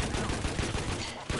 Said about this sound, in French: Dommage, on va tirer de l'artillerie.